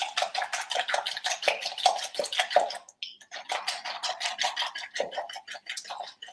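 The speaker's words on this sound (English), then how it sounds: "Just going to give that a quick sort of just a little bit of a whisk there." A whisk beats chocolate pudding mixture in a bowl, rapid scraping clicks and taps in a quick steady rhythm, close and moderately loud, with a brief pause midway before the whisking resumes.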